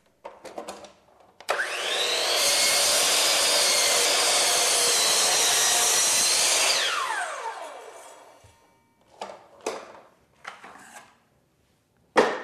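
Miter saw cutting wood trim: a short spin-up, then a loud, close whining cut lasting several seconds that winds down, followed by scattered handling clatter and knocks.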